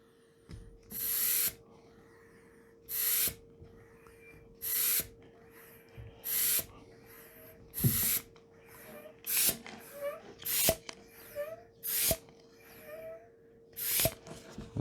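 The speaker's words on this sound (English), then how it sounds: "as we pump it out, the pressure going down should cause the balloon to swell up" A hand pump draws air out of a homemade vacuum chamber, each stroke a sharp airy hiss in a steady series of about a dozen pulls, close and loud against a faint background hum.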